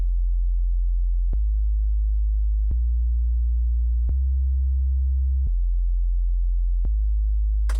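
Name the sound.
synthesized sine wave bass line, one tone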